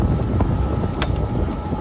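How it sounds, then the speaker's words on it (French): Steady wind rushes and buffets the microphone outdoors on a golf course at Evian, a continuous low roar with no voices. "le vent se lève, c'est quand même. Mine de rien, il y a du bon vent"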